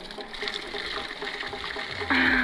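Drinking water flows in a steady stream beside a village road toward a temple in Uttarakhand, a continuous close trickling wash that swells louder near the end.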